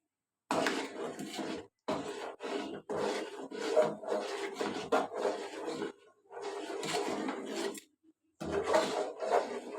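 A spoon scrapes and stirs spiced halim mix in a pot, with repeated close, gritty strokes in bursts separated by brief pauses, and no talk.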